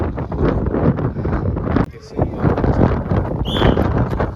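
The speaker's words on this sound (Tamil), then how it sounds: "தண்ணி காற்று செம்ம காற்று அடிக்குது" Strong sea wind on a boat ride off Kanyakumari roars steadily across the microphone in loud, continuous gusts, with a brief dip partway through.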